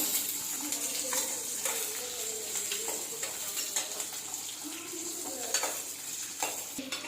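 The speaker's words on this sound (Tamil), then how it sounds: "காரத்துக்கு கொஞ்சம் ஒரு 5 காஞ்ச மிளகாய் போட்டுக்கலாம். நல்லா வதக்கிக்குவோம்." Onions fry with dried red chillies in a pan, giving a continuous, even sizzle. Frequent scraping and stirring strokes sound close by throughout.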